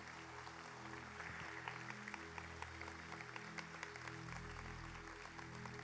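Church congregation applauding together, a steady dense patter of claps held at an even level for several seconds over a low sustained hum from the room, with no talking.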